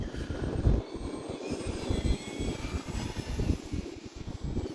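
A Hobbyzone Carbon Cub S 2 RC airplane with a 1.3 m wingspan drones steadily while flying and climbing on a calm day. Its buzzing motor is fairly faint and distant, heard alone against a rough, fluttering background.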